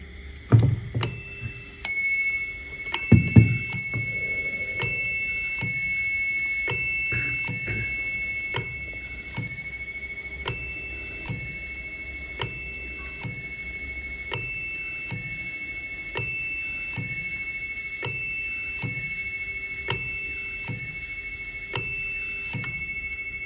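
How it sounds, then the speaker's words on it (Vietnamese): An antique Japanese wall clock strikes the hour with a long series of evenly spaced, loud bell chimes, each ringing out and decaying before the next, heard alone after a few brief handling knocks. "Rồi, em sẽ cho nó về 30 phút điểm chuông thử cho anh em nghe nha."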